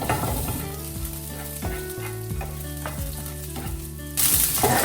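Chopped onion and garlic frying in hot oil with popping mustard seeds, a steady close sizzle with stirring scrapes throughout, louder hiss surging near the end.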